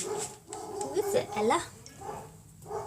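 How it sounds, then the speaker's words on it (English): A dog sitting in for the weekend at a home sewing space barks and whimpers in short yips near the microphone, mixed with close talking throughout. "I don't know if you can hear the dog barking,"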